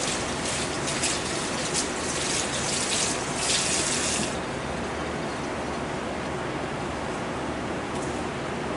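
Running tap water rinsing grapes in a home kitchen, a steady broadband rush that swells louder for the first four seconds, then settles into a softer continuous flow alone.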